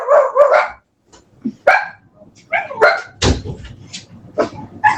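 Several dogs bark indoors in loud, close, irregular bursts of sharp barks and yips, with a whimper or two between them and no other sounds.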